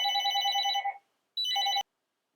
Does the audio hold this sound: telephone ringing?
yes